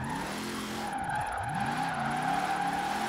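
A drift-built van in Forza Horizon 4 holding a long sustained slide, its engine droning steadily with tire squeal rising and bending as the angle changes, close and continuous with no talking.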